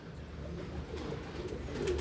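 Pigeons coo softly and steadily while feeding on grain outdoors, a low continuous murmur of several birds close by with no talking.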